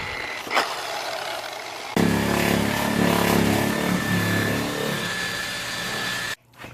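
A rotary polisher running at about 600 RPM on a wrecked VW CC R-Line starts suddenly, giving a steady loud motor whine with a sustained tone that holds for several seconds, then cuts off abruptly.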